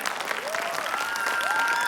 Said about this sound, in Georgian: აპლოდისმენტები ლოკომოკოსაც.